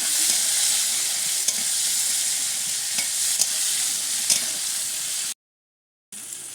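Onions sizzle steadily in hot oil with green chilli and bay leaf, a constant bright hiss with a few stirring clicks, briefly cutting out before resuming.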